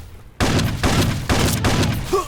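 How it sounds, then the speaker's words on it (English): Fallout 3 gameplay: heavy gunfire in rapid bursts, several booming volleys following each other closely, loud and near with rumbling low thuds. "Dodge this gunfire, hide in the trees so they can't hit me."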